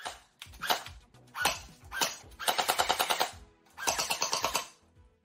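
Bursts of rapid gel blaster toy gun fire, compared side by side, with several quick rattling volleys of closely spaced shots separated by short pauses, loud and close with no talk.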